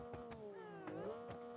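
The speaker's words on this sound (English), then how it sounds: "Always appreciate a car that makes cat noises." A video game car lets out a series of cat-like meows and yowls, several wavering cries close and fairly quiet with no talk.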